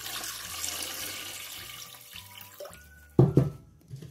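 Water runs from a tap into a cooking pot in a home kitchen, a steady pour that ends with a couple of sharper splashes near the end; close by, with no talk.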